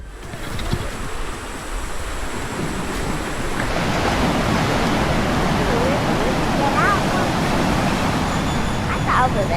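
Ocean waves wash onto the beach at Playa Conchal, Costa Rica, as a steady broadband roar of surf that swells louder partway through, mixed with wind buffeting the microphone.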